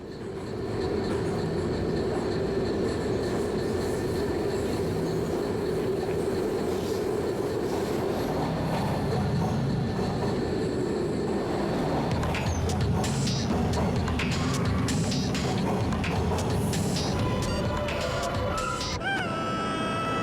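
Steady rumble of a train running in the video game Shovel, Inc., loud and continuous, with rhythmic clicking and metallic squeals building in the second half.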